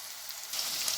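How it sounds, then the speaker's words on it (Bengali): Chopped onions fry in a pan for a prawn and spinach dish, giving a steady soft sizzle that grows slightly louder halfway through, alone without voices. "পেঁয়াজ কুচিটা দিয়ে পেঁয়াজটা একটু ভাজা ভাজা হলে তারপরে আমি দেবো চিংড়ি মাছটা"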